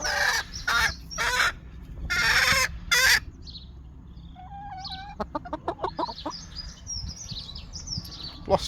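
Old hens clucking and calling in a muddy allotment run, a series of short rhythmic clucks and chirps following some louder rustling and knocking noises, fairly close, with no talk over them.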